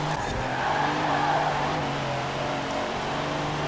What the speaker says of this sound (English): And we are drifting around.